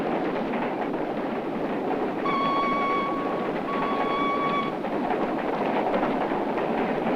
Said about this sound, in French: La houille flambe au foyer des locomotives.